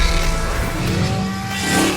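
A racing car engine from the video game Need for Speed The Run revs and surges up close and loud, the tone climbing briefly over about two seconds.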